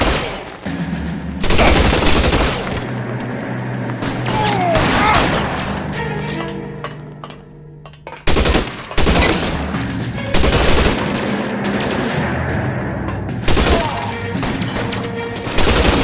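Sustained bursts of gunfire fill a shootout in the crime game L.A. Noire, loud and dense with rapid overlapping shots, a brief lull, then heavy firing again while voices shout between volleys.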